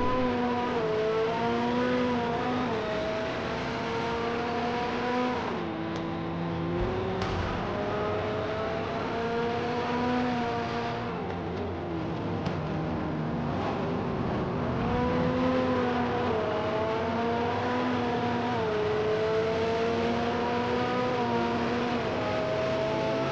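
A McLaren 720 race car engine in a Forza racing game on the Karlamie circuit drones loud and close, its pitch climbing through gears, dipping on shifts and lifts, then revving up again for the whole stretch.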